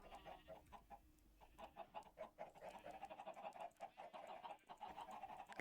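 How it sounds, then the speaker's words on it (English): Chickens cluck repeatedly in a Minecraft modpack game world, a steady stream of short, busy calls at moderate loudness with no talking over them. "Love the noise of chickens."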